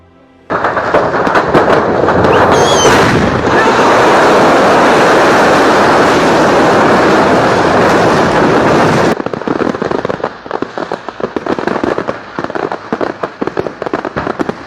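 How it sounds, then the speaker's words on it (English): Fireworks caught on a security camera explode in a loud, dense barrage of overlapping bangs and crackles for about nine seconds, then give way to scattered fainter pops. "This is why fireworks need to be strictly regulated."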